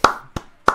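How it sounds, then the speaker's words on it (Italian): Three sharp hand claps spaced evenly apart, close and distinct, each with a short decay, closing an informal Italian farewell segment. "Applausi, Riccardo, per Riccardo."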